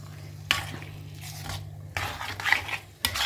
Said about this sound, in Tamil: இது நல்லா வத்தற வரைக்கும் இதை வதக்கி விட்டுட்டே இருக்கணும் நம்ம